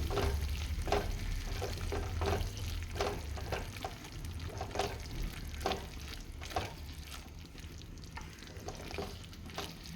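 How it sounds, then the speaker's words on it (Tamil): A masala of garlic and tomato for a prawn gravy sizzling in a pan while it is stirred, with repeated scraping strokes of the spoon over a constant low frying hiss and no voices. "இப்போ அந்த மசாலா நம்ம அந்த உள்ளி தக்காளி எல்லாமே ஒன்றா சேர்கிற வரைக்கும் நல்லா கிண்டி விடணும்"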